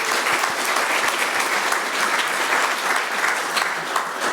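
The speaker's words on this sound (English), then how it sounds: "So a round of applause for that." Audience applause at the Angel Investors 2016 conference, honouring Minister Steven Joyce on his fifth consecutive appearance: a loud, dense, steady round of clapping from a large crowd that holds evenly throughout with no voices over it.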